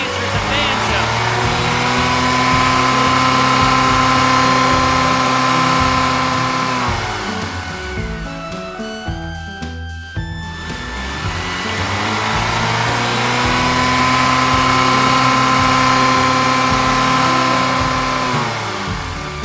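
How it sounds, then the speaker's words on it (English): A big blue truck's engine roars steadily as it lumbers along, the loud drone dipping briefly midway before swelling back to full strength. "El enorme camión azul avanza pesadamente, rugiendo mientras avanza."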